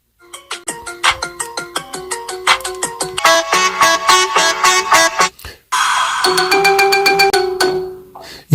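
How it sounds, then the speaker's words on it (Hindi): A Bollywood-style mobile phone ringtone plays a bright, plucked melody that builds into fuller sustained tones, loud and alone, with a short pause before the tune resumes. "अगर आप लोगों के मोबाइल में इस तरह की रिंगटोन बजेंगी ना, तो जो भी आसपास वाला होगा वो एक दफा सुनकर जरूर इंप्रेस होगा"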